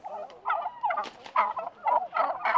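Narragansett turkeys on a Rhode Island farm gobble in a series of rapid, warbling calls, several bursts close together, loud and near with no speech.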